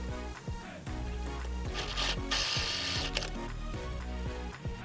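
A sewing machine stitches the folded edges of a cloth face mask, a rapid close mechanical whir with rhythmic needle ticks and brief rubbing of fabric.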